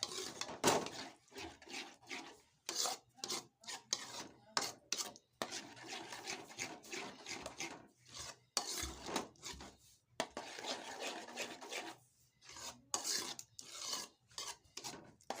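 Ground sago stirred firmly with ghee in a pan, producing repeated rasping scrapes of spoon on metal in uneven bursts, close and moderately quiet, with pauses between strokes.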